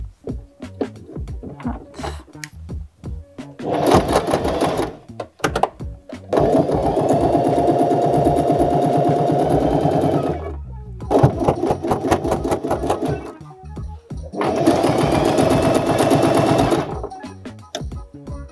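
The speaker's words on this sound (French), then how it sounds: "Je commence à faire ma couture sur un des côtés" A sewing machine stitches along the side hem of a tote bag cut from a bedsheet, running in close, loud bursts of rapid needle chatter separated by short pauses.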